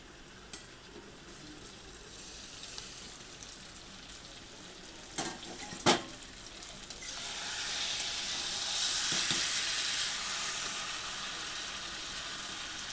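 Chicken gravy slowly sautéing in oil in a pan, a quiet steady sizzle with a couple of sharp utensil knocks midway, the frying hiss growing a little louder toward the end.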